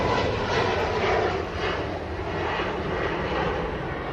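An airliner departs Manchester Airport, its jet engines giving a loud, steady roar that holds close and constant without any talk over it.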